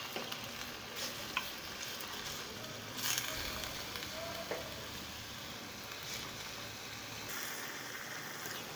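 Chicken liver fries with minced garlic in a pan while being stirred, a faint, steady sizzle with occasional scraping and clinks of the utensil.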